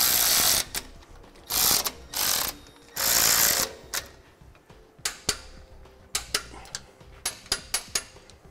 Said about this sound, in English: we can snug down our bolts and we'll torque them to the manufacturer's specifications